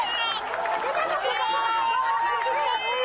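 A crowd greets a released hostage arriving in Israel, cheering and shouting together in an excited, close-up mix of overlapping voices that lasts throughout.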